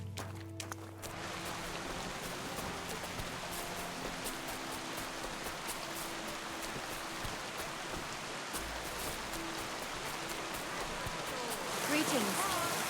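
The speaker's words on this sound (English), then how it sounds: "Don't mind the rain." Steady rain falls throughout, a dense, even hiss of drops on surfaces, close and fairly loud, with no voices standing out.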